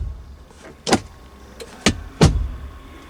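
Three solid Nissan Townstar car door thuds spaced about a second apart, close and fairly loud, with quiet cabin hum between them.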